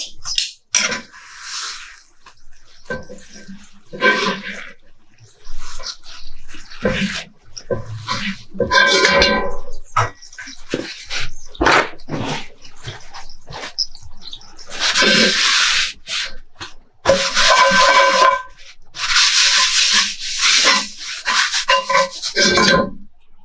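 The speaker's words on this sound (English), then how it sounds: "So with just a little bit of paper towel, carefully get some of that water off" Paper towel rubs water off a freshly washed cooking pan in a home kitchen, with repeated close, scratchy wiping strokes in bursts and short pauses between them.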